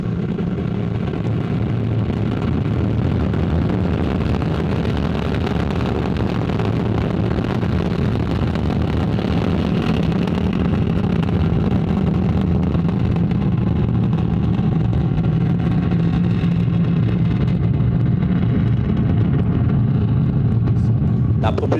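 Ariane 5 rocket lifting off, a sustained loud broadband roar with deep rumbling lows that continues unbroken, with a voice talking over it.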